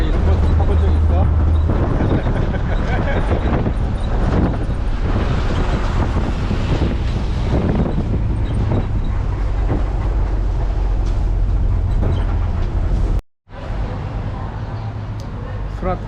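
Loud, constant rumble of a train rolling on rails near Surat Thani, Thailand, with wind buffeting, broken by one brief dropout near the end.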